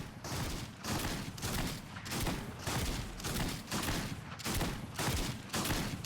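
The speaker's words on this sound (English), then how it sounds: "Just spam firing a lever shotgun much faster than it can be shot." A lever shotgun in Fortnite fires in rapid repeated blasts, steady bursts about every half second, loud and close, with no talk over it.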